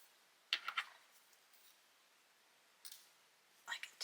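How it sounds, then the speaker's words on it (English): A few sharp snips of scissors trimming sewn fabric in quick bursts, separated by quiet pauses, close and fairly faint against a near-silent background. "I can take my scissors and just trim."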